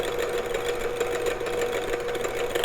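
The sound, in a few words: electric mixer beating buttermilk custard pie filling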